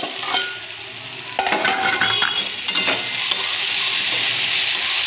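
Pumpkin pieces stirred in hot oil, a continuous close sizzle broken by several sharp scraping strokes of a spatula against the pan, with no talking.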